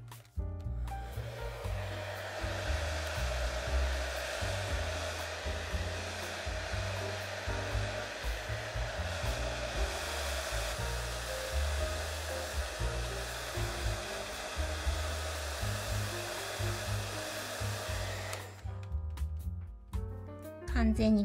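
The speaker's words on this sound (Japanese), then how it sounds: "こんな感じで溶かせたらドライヤーで乾かします" A hair dryer blows over a watercolor pencil painting of a wolf and full moon, a loud, steady whir running for about eighteen seconds before it cuts off abruptly.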